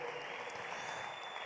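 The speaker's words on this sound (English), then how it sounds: "A round of applause once again for Mr." Audience applause for a guest speaker at a youth empowerment event, a steady wash of clapping that fills the whole moment at a fairly faint level without any break.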